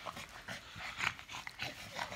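A big dog makes short whimpering, panting noises in several soft bursts, close by and fairly quiet, with no one talking over it.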